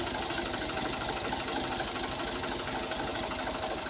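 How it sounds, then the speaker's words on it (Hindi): A tractor-mounted sprayer works a kinnow orchard, its engine running with a loud, steady throbbing drone and a rapid regular pulse, close and constant throughout. "स्प्रे किया जा रहा है इससे ट्रैक्टर पर"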